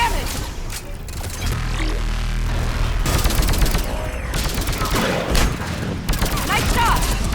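Gunfire rattles loudly in Mass Effect 3 Legendary Edition during the fall of Thessia, with bursts of automatic shots, single cracks and a few heavy impacts over a dense combat din.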